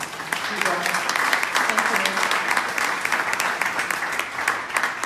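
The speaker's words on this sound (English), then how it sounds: "If you can give her also a round of applause." An audience at the close of a talk gives a moderator a round of applause, dense continuous clapping with some sharper individual claps and a faint voice underneath.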